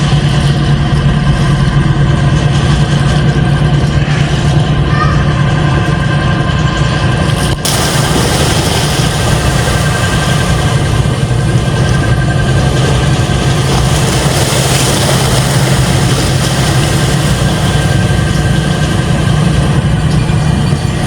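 Heavy construction machine engine working at a bridge project site on Samal Island, Davao, extracting small pipes; a loud, steady diesel rumble runs throughout with a brief shift partway, no voices.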